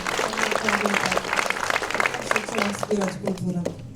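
An audience at a cultural event in Siedlce applauds the sponsors, with clapping running under and between a speaker's talk.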